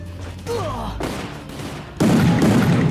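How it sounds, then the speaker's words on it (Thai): Shotgun blasts from a fiery-round shotgun in an online shooter game, a dense fusillade of gunfire with booming impacts that grows louder and more intense in the second half, with faint voice sounds mixed in. "ทำไมยิงยากจังวะลูกสองไฟเนี่ย"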